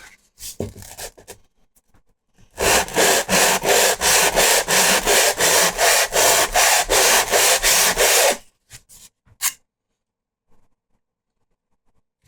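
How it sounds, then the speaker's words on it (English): Steady rapid back-and-forth sanding strokes on the plastic seams of a costume armor chest piece, loud and close, running for several seconds after a few light taps, then stopping. "just a little bit of sanding on the seams to make sure that there's some grip"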